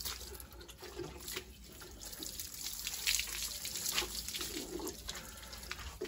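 Water sprays steadily as a motorcycle is rinsed, a continuous hiss and patter with some dripping, faint and at a moderate distance.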